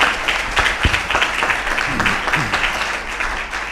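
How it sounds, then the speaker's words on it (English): Steady applause from an audience at a law graduation ceremony fills the clip, a dense wash of clapping at moderate loudness that thins slightly toward the end. "please welcome Mr. Shahab Sarki with a huge round of applause"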